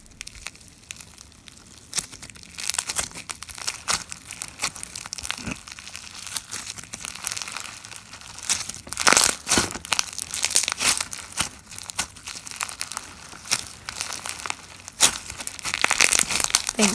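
Crunchy floam slime packed with foam beads being squeezed and worked by hand, giving dense, continuous crinkling and crackling pops that swell and fade, close and fairly loud, with no talking.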